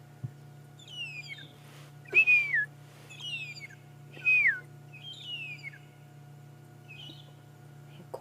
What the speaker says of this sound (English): I can hear them chirping and whistling away.